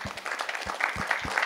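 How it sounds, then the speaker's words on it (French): An audience applauds after a talk on a health-focused vegetable garden, the clapping fairly light and scattered, with a few sharper individual claps standing out. "Alors, on vous applaudit."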